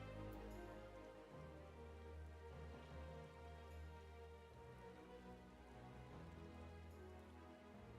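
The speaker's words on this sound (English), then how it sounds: "Must we wait out in the rain though?" Steady rain pours throughout a Final Fantasy XIV cutscene, a continuous dense hiss of drops with a low rumbling bed, loud and close, with no voices.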